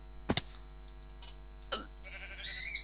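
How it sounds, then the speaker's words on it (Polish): A Minecraft sheep bleats once near 1.7 seconds, a short wavering call, while sharp game clicks sound at the start and a thin synthetic tone rises toward the end. "Owca!"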